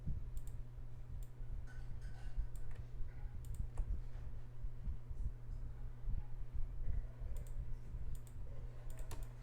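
Sparse mouse clicks, some in quick pairs, sound over a steady low hum during Photoshop editing, cutting out a shape with the pen tool.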